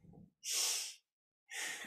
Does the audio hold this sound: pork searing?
no